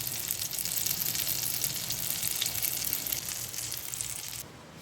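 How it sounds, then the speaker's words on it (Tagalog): Eggplant omelette, tortang talong, frying steadily in a pan with a dense, even sizzle that holds for several seconds and drops off suddenly near the end. "Piprituhin lang yan hanggang mag-brown at babaligtarin."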